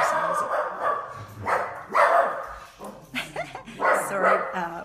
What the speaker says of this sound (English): my water delivery guy just drove up, so my dog's going a little crazy